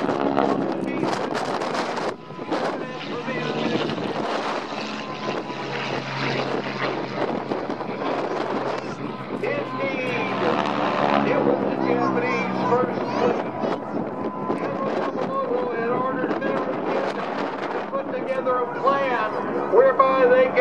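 Propeller aircraft flying at the LA County Air Show in a Tora! Tora! Tora! Pearl Harbor reenactment, including a Mitsubishi replica; continuous engine drone with wind noise, steady and fairly loud, under a public-address voice speaking throughout.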